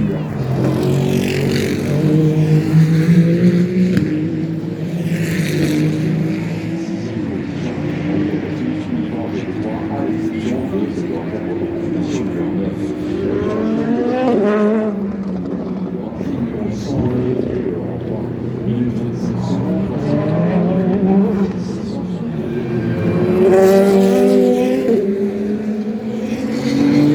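Race cars on track during free practice at the 24 Hours of Le Mans, engines droning and revving as they pass, rising and falling whines over steady running, with a commentator talking throughout.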